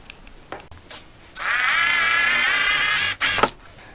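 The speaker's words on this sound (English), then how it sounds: "all we need to do is drill a 5/8 hole" A power drill bores a 5/8-inch hole through the plastic hull of a Hobie Pro Angler kayak, a steady high whine lasting about two seconds, preceded and followed by a few short handling knocks and scrapes.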